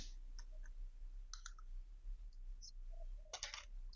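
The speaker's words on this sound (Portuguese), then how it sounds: "E com a tesoura eu vou dar o acabamento aqui," Scissors trim the edge of a plastic piece during a PC build, making a few sparse, crisp snips and clicks close by, with quiet gaps in between.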